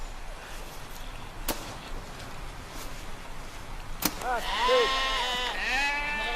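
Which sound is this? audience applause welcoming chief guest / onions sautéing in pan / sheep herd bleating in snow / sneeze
sheep herd bleating in snow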